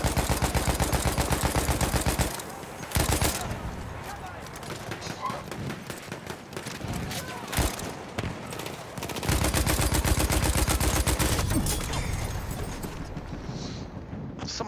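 Rapid gunfire crackles through a Battlefield 1 match on the Soissons map with the German Empire side, loud bursts and rattling volleys in quick succession, with brief gaps between the barrages.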